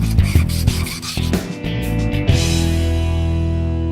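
A greasy metal part is polished with crocus cloth, giving close, loud rubbing and rasping strokes in a few quick passes, followed by a lingering metallic ring.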